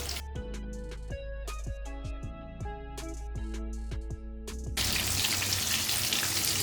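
Egg fingers frying in oil in a pan, giving a dense, crackling sizzle that takes over in the final seconds after a run of plucked musical tones.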